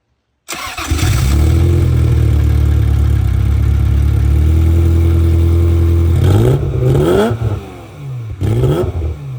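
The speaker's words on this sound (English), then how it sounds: "the engine sounds so good. Take a listen." A Ferrari F355 GTS engine starts and idles with a deep, steady roar, then revs sharply several times in quick, loud bursts.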